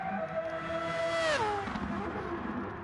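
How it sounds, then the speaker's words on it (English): Historic rotary-engined Grand Prix race cars at Le Mans howl past with a high, sharp scream that swoops down in pitch as they go by. The passes are loud and sustained, with no voices over them. "Here we go with the last of the howling rotaries."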